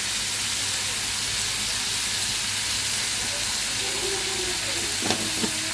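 Food fries in hot oil, giving a steady, close sizzling hiss with a couple of brief clinks near the end and no talk.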